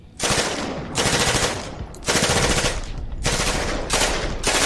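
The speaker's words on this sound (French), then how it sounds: "Parce que les tirs crépitent autour de toi." Gunfire sound effect in a Warhammer 40k tabletop role-playing game, four loud sustained bursts of rapid automatic fire, each about a second long, separated by brief gaps.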